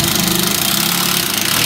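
A loud, close power drill whirring steadily with a gritty buzzing tone as it bores into a bathroom wall while mounting a cabinet, without pause.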